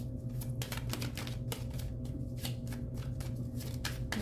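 Tarot cards flipped and handled in a quick run of soft, papery snaps and shuffles. The flicks come in uneven bursts close to the listener over a low steady background hum, with no talking.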